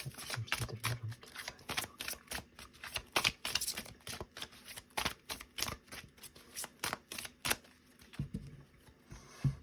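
Tarot cards being shuffled and cut before a general reading, a dense run of quick riffling flicks and soft slaps that keeps going throughout at close range, with brief quiet voice traces in the background.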